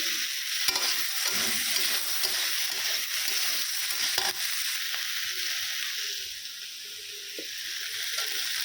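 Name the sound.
paneer frying and being stirred in a pan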